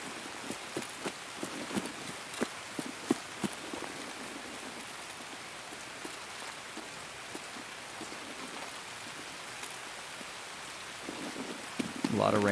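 Rain in the video game Escape from Tarkov, a soft constant patter of drops on surfaces with scattered sharper taps and a faint low rumble, quiet and continuous throughout.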